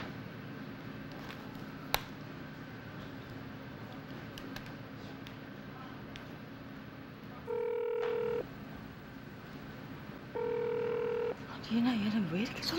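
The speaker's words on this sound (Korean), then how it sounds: "얘는 왜 이렇게 전화를 안 받아?" Two steady ringback tones from an unanswered telephone call, each lasting about a second, sound over a low room murmur with faint background noise.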